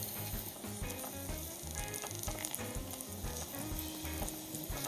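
Steady, close sizzling and crackling of onion and carrot frying in a little oil in a small saj pan, with no voices.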